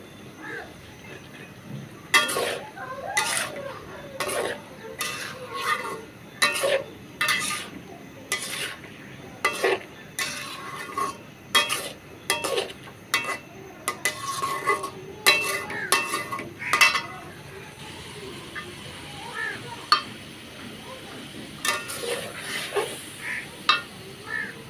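Papaya goes into a pot of jiyel (shing) fish curry and is stirred, with repeated clinks and scrapes of a metal spoon against the pot, close and fairly loud, over a faint sizzle and occasional soft talk.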